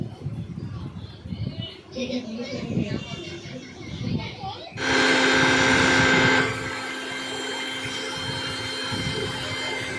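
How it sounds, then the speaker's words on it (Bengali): An electric grinder whirs loudly for about two seconds while grinding coconut into powder, then settles into a steady hum, with talking before it starts. "আমি যেরকমভাবে গুঁড়ো করছি আপনারা সেরকম মেশিনে গুঁড়ো করে নেবেন।"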